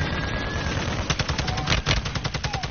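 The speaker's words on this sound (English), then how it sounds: "Oh, someone's shooting." Rapid automatic gunfire in Call of Duty: Warzone, a tight burst of loud, evenly spaced shots rattling off in quick succession after a stretch of busy background game noise.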